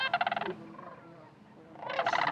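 Sandhill cranes call at sunset at the Jasper-Pulaski refuge in Indiana, a rapid rolling rattle in two loud bursts at the start and end with a softer murmur of calls between.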